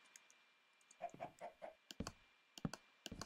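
A chicken in Minecraft clucks in a short burst of four quick notes, followed by a few scattered clicks and thumps, quiet and with no talking.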